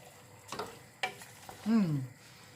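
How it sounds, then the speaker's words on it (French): Mexican tomato sauce is stirred in a pan, with a few soft scraping strokes followed by a louder, drawn-out squeaky scrape near the end, close and fairly quiet. "Et on mélange."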